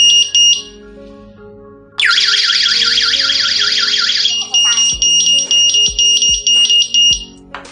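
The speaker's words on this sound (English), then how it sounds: "When the alarm is triggered, it can conduct on-site alarm through sound and light" Anti-burglar smart home security system siren giving loud, close electronic alarm tones: a short high beep, then a rapidly warbling wail, then a steady pulsing tone with soft clicks beneath.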